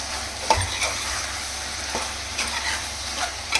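Chicken kurma masala with chilli powder is stirred in a hot pan, a close sizzling crackle broken by repeated scraping strokes of a spoon against the pan.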